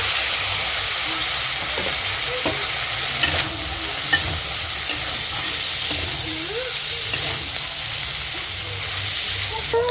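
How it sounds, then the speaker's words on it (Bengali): Chicken and vegetables stir-fry in a pan for egg chicken pasta, a loud steady sizzle with occasional scrapes and clinks of stirring, no talk. "সবজিগুলো ভাজা হয়ে গেছে এবারে এতে মাংসটা দিয়ে দেওয়া হবে"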